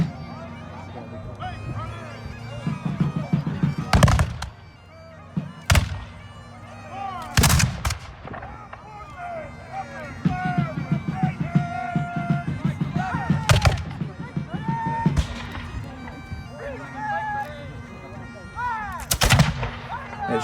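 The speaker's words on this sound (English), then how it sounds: "They're still hearing some of the artillery pieces, the swivel gun being utilized, of course those muskets that they're using" Reenactment of the Battle of Fort Ligonier with artillery pieces, a swivel gun and muskets firing: several loud, sharp booms spaced several seconds apart over a steady crowd murmur and distant talking.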